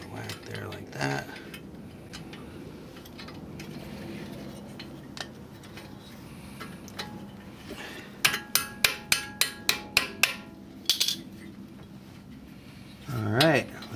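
A hammer strikes the brake caliper clip on an Audi A4 during a brake pad job in a garage, giving a quick run of about eight sharp metallic whacks, close and loud, with other clanks and a voice around them.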